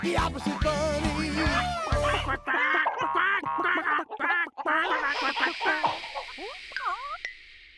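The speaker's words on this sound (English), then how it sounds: "The duck was loud, now he's quiet." A loud duck quacks in bursts amid lively voices and other cartoon-style sounds from a children's television show, then the quacking gives way to quieter sounds.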